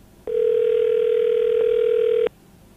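An outgoing telephone call rings on the line, a single steady electronic ringback tone lasting about two seconds, loud and clean against quiet background hiss.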